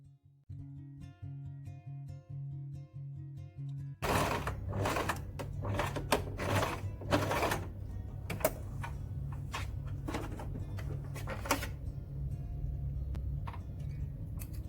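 After a few seconds of faint hum, a sewing machine top-stitches 0.1 cm along the facing of wide-legged satin pants, running in a loud, steady whir with rapid ticking clicks, up close.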